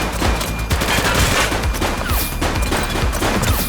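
Sustained gunfire rattles through a police shootout in The Precinct, with dense overlapping bursts and single shots fired continuously at close range, loud and unbroken for the whole stretch.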